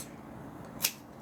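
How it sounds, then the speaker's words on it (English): A single short snip of scissors cutting a small piece of double-sided tape, quiet and close against faint background hiss. "I'm going to cut my little pieces of tape."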